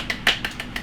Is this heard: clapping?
yes